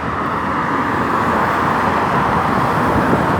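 Cars and trucks pass on a busy road in a constant, dense roar of traffic that stays loud throughout with no breaks.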